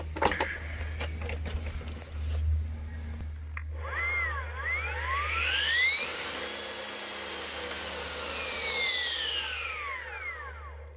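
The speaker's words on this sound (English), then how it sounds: "we hired out a 9-inch demolition saw, battery powered, and we're going to see how it works" Battery-powered 9-inch demolition saw spinning up and cutting, a loud whine that rises in pitch, holds for several seconds, then winds down, following some earlier handling noises.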